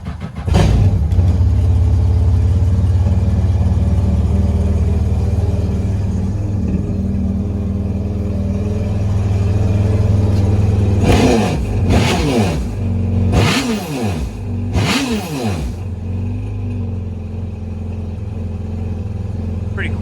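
Yamaha FX SHO jet ski engine fitted with an HKS turbo, running with the seat on, a steady muffled low rumble at idle broken by several short sharp throttle blips, close and loud.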